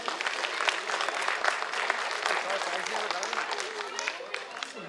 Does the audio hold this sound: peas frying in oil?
no